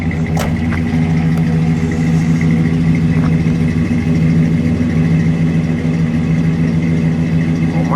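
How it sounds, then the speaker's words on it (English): A 1972 Ford Galaxie 500 351 V8 idles steadily through dual exhaust, a close, even low burble with no talk over it. "We'll listen to it at idle"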